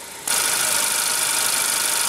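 A 2015 Honda Accord's 2.4-liter inline four-cylinder engine runs in a steady, even drone that starts suddenly and holds constant and loud.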